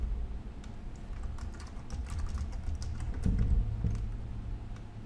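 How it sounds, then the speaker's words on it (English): Brisk, uneven clatter of keys as a password is entered on a computer keyboard, close and fairly quiet, with a slightly heavier keystroke burst near the end. "type in the password."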